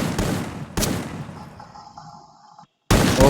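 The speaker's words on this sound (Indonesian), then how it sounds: "Masih tembak-tembak di sini." Shooting in a competitive first-person shooter match, Oasis event quarterfinal between two players: a couple of sharp loud shots, then quieter mechanical gameplay noise, a brief silence, and another burst at the end.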